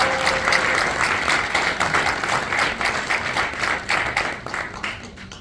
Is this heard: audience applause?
yes